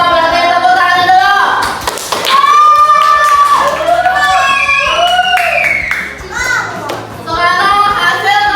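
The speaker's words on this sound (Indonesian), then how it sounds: "berarti tepuk tangan dulu" Schoolchildren in an Indonesian classroom clap their hands together in bursts of scattered, close applause, mixed with children's chatter and a teacher's voice.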